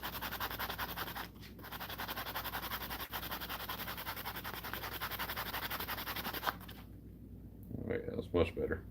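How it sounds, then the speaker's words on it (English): Continuous gritty scrubbing of a sanding pad on rust, close up, on brakes of a 1990s Mercedes, a steady abrasive scratch that stops near the end, followed by a brief soft voice. "A little sanding pad here."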